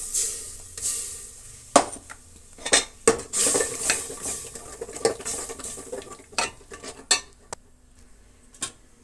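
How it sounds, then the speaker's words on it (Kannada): Ground spice masala being added to a pot of sweet pumpkin sambar and stirred with a metal spoon: irregular sharp clinks and scrapes against the vessel over a soft sizzle, close and clear, no talking. "ಈಗ ನಾವು ಮಿಕ್ಸ್ ಮಾಡಿಕೊಂಡಂತಹ ಮಸಾಲೆ ಎಲ್ಲ ಪಾತ್ರೆಗೆ ಸೇರಿಸೋಣ."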